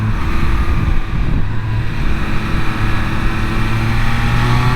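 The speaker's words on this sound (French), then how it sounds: "vous tournez un peu la poignée, ça part tout de suite" A 2023 Triumph Speed Triple 1200 RS three-cylinder motorcycle accelerates, a loud, steady engine roar with a droning low tone holding throughout.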